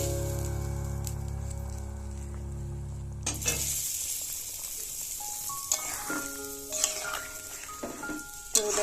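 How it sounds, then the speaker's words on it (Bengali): Gravy tipped into a pot of simmering egg and potato curry, a loud pouring rush that cuts off abruptly, followed by quieter bubbling and scattered clinks of a utensil against the pot. "ঝোলটা আমি এর ভিতরে দিয়ে দেবো।"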